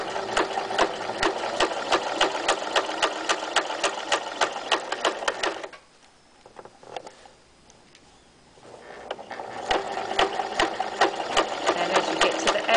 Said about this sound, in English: you're still sewing right close to the edge there